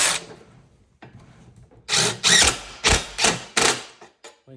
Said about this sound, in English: So we're going to add our first screw right here.